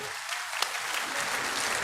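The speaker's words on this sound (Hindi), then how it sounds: "मैं चाहूंगा एक बार जोरदार ताली से इनका धन्यवाद करिए" Applause from the audience at a village mahapanchayat in Anangpur, Faridabad, a dense, steady wash of many hands clapping at a distance, fairly faint and continuous, without speech.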